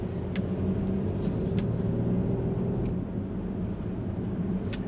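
Volvo XC60 Polestar gas-electric hybrid SUV driving on a road in Polestar mode, heard from inside as a steady low rumble of road and engine noise with occasional faint clicks.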